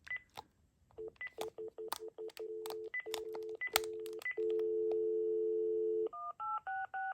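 A Panasonic KX-TG5243 cordless phone dials a string of quick DTMF tone beeps, then holds one long steady tone before a few stepped beeps at the end, clear and moderately quiet with no talking.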